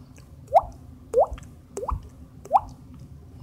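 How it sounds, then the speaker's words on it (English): Dripping liquid as a sound effect: four distinct, resonant drops plop at a slow, even pace, close and clear over a faint low rumble. "That's the sound of your brains dripping out your motherfucking skull."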